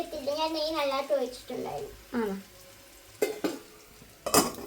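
Food scraped and stirred in a sizzling pan, with clinks of a utensil, while someone talks over it; the food is catching slightly on the bottom of the pan.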